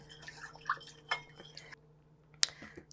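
Small utensil clinks and light liquid sloshing as a dressing of rice vinegar, sugar, soy sauce and sesame oil is stirred together in a bowl, sparse and quiet with brief sharp taps.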